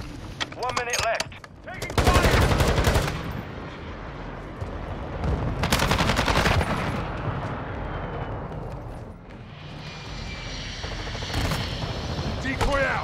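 Rapid automatic gunfire rattles in loud, dense bursts in Call of Duty on the Shoot House map, with sustained volleys near the start and middle and lighter shots and game noise in between.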